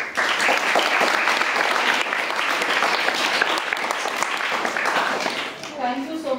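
A crowd at a government high school event in Palem applauds the MLA with sustained, dense clapping that fills the room, tapering near the end as a voice speaks.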